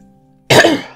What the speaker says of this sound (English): Excuse me, this cough.